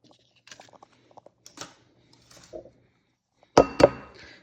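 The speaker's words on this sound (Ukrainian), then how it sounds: "Б'ємо яйця для омлету, щоб він був таким французьким і дуже воздушним, повітряним." Eggs cracked into a bowl for a French omelette: scattered light taps and clicks, then two sharp cracking knocks close to the mic near the end.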